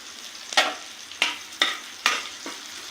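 Green chillies and chopped ginger fry in a pan for tomato soup, five sharp spatula scrapes and tosses cutting through a steady close sizzle.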